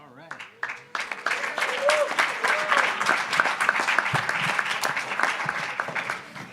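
A large gathering's audience breaks into applause after a short opening, building into dense, sustained clapping from many hands that stays strong and steady to the end, with a voice briefly heard at the start.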